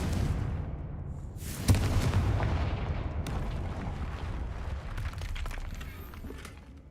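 A Confringo blasting spell bursts into a loud explosion in Hogwarts Legacy, a sharp boom followed by a long rumbling roar and crackling debris that slowly fades, with no talking.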